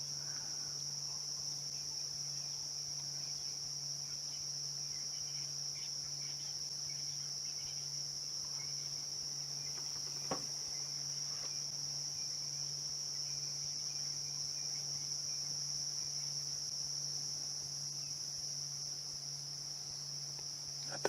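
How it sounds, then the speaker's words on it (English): Cicadas drone in a continuous, even high-pitched buzz throughout, with a faint click partway through and no voices. "At the moment, all I can hear is cicadas."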